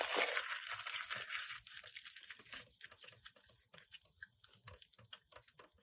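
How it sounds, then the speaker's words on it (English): Bakeable material, likely foil, crumpled by hand into a rough egg-shaped base for a clay dragon egg: a loud burst of crinkling and tearing, then quieter scattered crackles as it is pressed into shape. "So I'm just going to crumple this."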